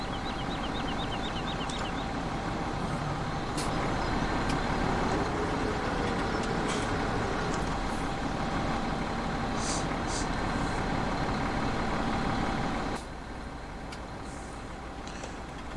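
Tractor engine from Farming Simulator 17 idling with a steady low drone. It rumbles continuously for about thirteen seconds and then drops to a quieter hum, with faint clicks on top.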